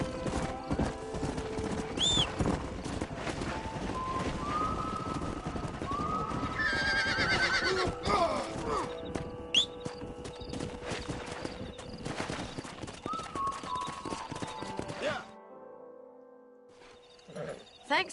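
Horses in the Red Dead Redemption video game, galloping hooves clip-clopping continuously up close with several loud neighs and whinnies over them, ending in near silence.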